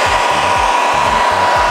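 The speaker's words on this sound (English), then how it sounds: "use this dude, hair dryer" A hair dryer blows steadily and loudly to dry watercolor paint on a comic drawing, a constant airy roar with no talk.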